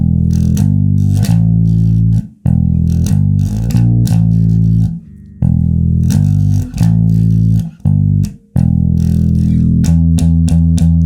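Bass guitar playing a riff, loud and close, with repeated groups of deep notes broken by short pauses and no talk.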